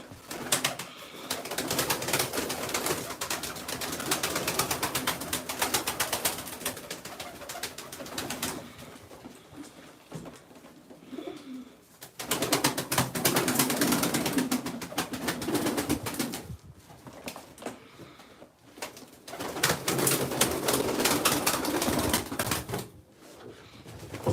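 Several pigeons coo in repeated bursts with brief quieter gaps between, close and fairly loud, accompanied by rapid clicking and scratching from feet and wings.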